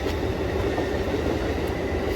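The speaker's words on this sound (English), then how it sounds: "So that's a commuter train." An Amtrak commuter train rolls past outdoors near a trail, a steady loud rumble of wagons and wheels on track holding throughout with no talking.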